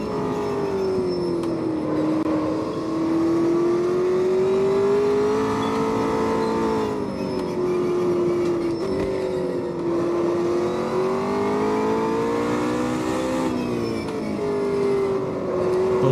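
A McLaren 720S GT3 race car engine on a hot lap of the Nordschleife in the Automobilista 2 racing game: a loud, unbroken drone that climbs and dips in pitch through gear changes, with no talking.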